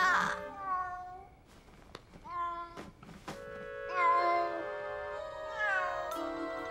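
A cartoon cat meows repeatedly, with several drawn-out, wavering yowls spread across the stretch, some louder and closer than others, over a quiet background.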